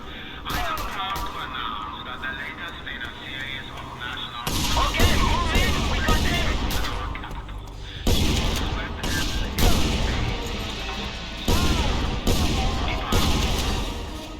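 Fireworks crack and pop in rapid, irregular bursts at a lively party, with loud clustered volleys around a steady bed of music and crowd noise, some blasts booming close and others scattered.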